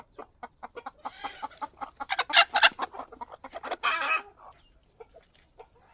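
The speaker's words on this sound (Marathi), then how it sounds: "आणि ह्या कोंबड्या अंडी द्यायला बसलेल्या आहेत बघा" Village farm hens, some sitting to lay eggs, cluck nearby in a series of sharp, irregular calls that build into a louder burst of squawks and then trail off into scattered clucks.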